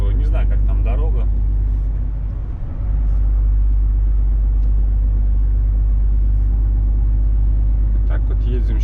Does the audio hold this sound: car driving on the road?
yes